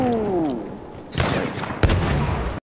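Gunfire in the video game Battlefield 1: a low droning tone fades out, then a burst of rapid shots sets in, with one sharp close crack near the end.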